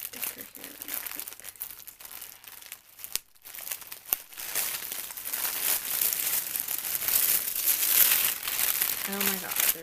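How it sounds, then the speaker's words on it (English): Stickers peel off the packaging of a Chanel purchase, a close run of crinkly crackling and tearing rustles that grows louder and denser toward the end, with a few brief knocks and a short tonal blip. "I'm gonna just take off the sticker here really quick"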